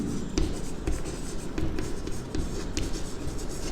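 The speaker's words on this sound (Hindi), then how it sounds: "तो यहाँ पे लिखता हूँ मैं" Marker or chalk writing on a board during a maths lesson, with quick scratchy strokes and taps in an irregular rhythm, close and clear, with no speech.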